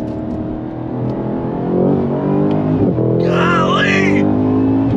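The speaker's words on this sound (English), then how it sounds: "On the brakes, downshift, downshift." A 2022 Cadillac CT5-V Blackwing engine roars loudly and steadily as the car brakes hard and downshifts, with a brief dip near the midpoint, a rising whine late on, and a person talking over the engine.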